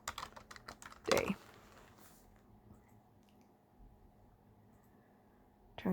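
Keystrokes on a computer keyboard while a Valentine's Day card is designed on screen, a quick burst of close, faint clicking at the start followed by near silence.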